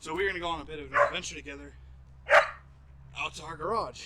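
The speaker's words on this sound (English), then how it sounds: "That's my dog. She's mad that she had to go into her dog run." A pet dog shut in its outdoor dog run gives a few sharp barks, one loud bark standing out near the middle, under and between a person talking close by in a home setting.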